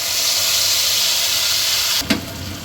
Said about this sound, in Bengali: কড়াতে সর্ষের তেল গরম করে নিয়েছি এবারে এই মশলাটা ঢেলে দিলাম